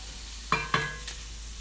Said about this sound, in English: So we're going to start with these ones that take a little bit longer.